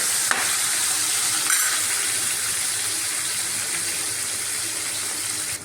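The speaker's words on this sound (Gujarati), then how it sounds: "1 નંગ ટમેટાના પણ ઝીણા સમારેલા નાખીશું અને મિક્સ કરીશું 2 મિનિટ માટે." Chopped capsicum and tomato sauté in a pan for a dal palak khichdi, giving a steady, close hiss and sizzle throughout with a couple of brief stirring scrapes near the start; no one talks.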